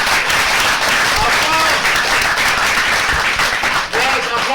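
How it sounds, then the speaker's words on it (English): Loud studio audience applause on a televised quiz competition, a dense, sustained roar of clapping filling the whole stretch, with a voice and a few tonal sounds audible under it. "Applause for the dynamo."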